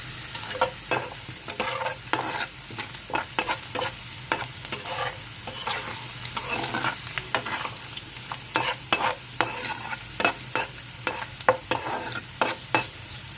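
Chopped ginger and a whole head of garlic frying in oil for a potato gravy, an even hiss of sizzling punctuated by frequent sharp spatula scrapes and taps in an irregular stirring rhythm.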